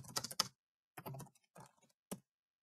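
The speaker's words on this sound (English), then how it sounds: "I'm going to type out a message." Quick bursts of computer keyboard typing, close and crisp, come in short clusters of clicks separated by brief pauses as a message is entered.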